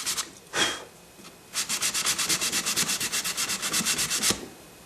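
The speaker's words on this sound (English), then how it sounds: "we're sanding through the original primer that came on it and down into the plastic" Hand sanding cuts through factory primer into a plastic panel during paint prep: one short stroke, a pause, then a steady run of about twenty quick, even back-and-forth rasping strokes, close and alone.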